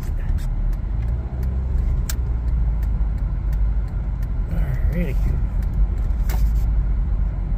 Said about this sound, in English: Oh yeah, the car is doing so much better.